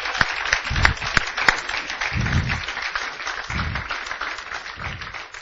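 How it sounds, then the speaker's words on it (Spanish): A church congregation claps together for the Lord, scattered sharp claps at first building into a steady mid-level round of applause that continues to the end. "Démosle un fuerte aplauso al Señor"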